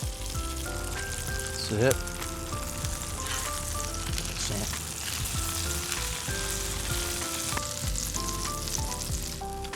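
Cornbread grilled cheese fries in butter in a pan, giving a steady close sizzle and crackle for the whole stretch, with faint tonal sounds in the background and a brief spoken voice.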